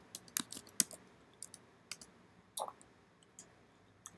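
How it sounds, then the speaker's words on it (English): Computer keys clicked sparsely and quietly while coding in Python, scattered single taps and short bursts spaced irregularly, close and isolated against a near-silent room. "Keyboard."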